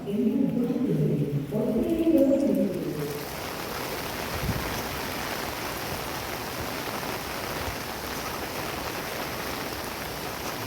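A brief low hum gives way to a dense, steady wash of rain hissing on surfaces, continuous and fairly loud with no talking.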